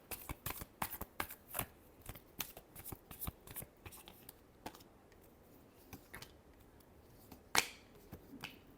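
Tarot cards are shuffled close up in a string of quick crisp riffles and slaps, irregular bursts with short pauses between them, one sharper snap near the end, and no talking.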